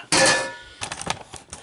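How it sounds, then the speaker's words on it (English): A metal wok, being cleaned and seasoned after its protective coating was scrubbed off, is set back down on a stove with one loud ringing clang, followed by lighter metallic knocks and scrapes. "I'm gonna put it back on the stove"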